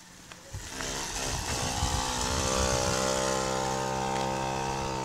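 A motorcycle engine starts up close by and settles into a loud, steady idle with a rough, throbbing tone.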